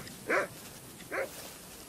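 Two short, fairly close dog barks about a second apart over a quiet background, from a documentary scene about hunter-gatherers hunting with dogs.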